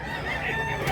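A rooster's crow, close and loud, filling the whole second as one sustained call.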